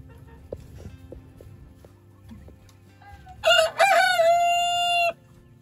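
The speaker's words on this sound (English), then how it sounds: "Rooster." A rooster crows once near a garden on a morning walk, a loud drawn-out call after a few scattered soft clucks and faint background sounds.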